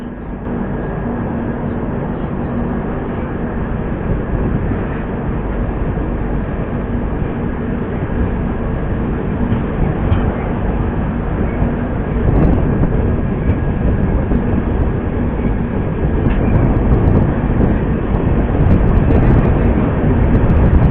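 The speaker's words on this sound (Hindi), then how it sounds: "तब तक आप लोग देखिए उसका डिपार्चर वैर रेलवे स्टेशन से" The Bihar Sampark Kranti superfast express pulls out of a railway station, a loud continuous rumble of wheels and carriages that swells gradually and carries on for the whole stretch without talk.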